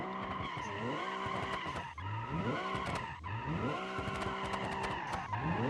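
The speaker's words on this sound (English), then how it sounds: "This car's just spinning. Doesn't even want to go straight." Tires skidding and squealing as a car spins out in a video game, with a continuous revving engine whose pitch climbs and drops in repeated waves.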